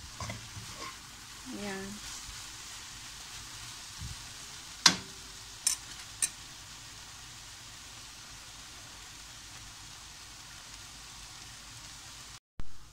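Onions frying in a pan make a faint, steady hiss of sizzling oil, with a brief spoken word at the start and a few sharp clicks partway through.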